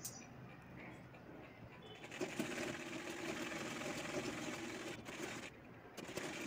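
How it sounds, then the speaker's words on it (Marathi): A sewing machine stitches the gathered side of a baby frock, a steady continuous mechanical whir running the whole time and growing louder and denser midway, heard alone at close range. "आता दुसऱ्या बाजूचा घेर आपल्याला शिवून घ्यायचा आहे."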